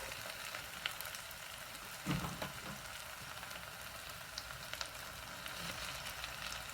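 Raw beef mince for a cottage pie fries in a pan as it is broken up, with a soft, continuous sizzle and a few knocks and scrapes of the utensil, quiet and without speech.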